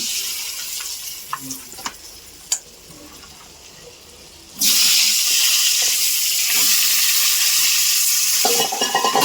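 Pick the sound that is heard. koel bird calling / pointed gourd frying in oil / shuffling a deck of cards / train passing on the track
pointed gourd frying in oil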